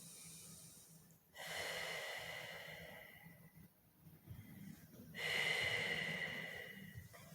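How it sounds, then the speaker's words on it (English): Slow, deep breaths taken while resting in child's pose during a yoga and pilates class, with two long, soft, airy exhalations separated by quiet pauses. Nobody speaks. "Take about 3 to 5 breaths here."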